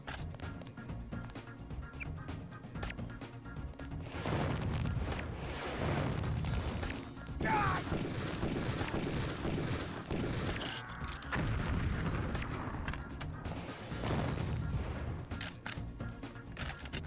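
Gunfire in the video game Deus Ex, dense and continuous booming shots and blasts filling the whole stretch at steady loudness, with no talking.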